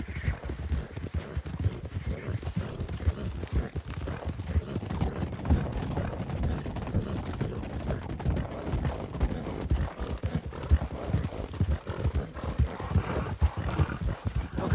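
Horses galloping in Red Dead Redemption 2, a steady rapid clatter of hooves under game music and ambience, continuous and moderately loud throughout.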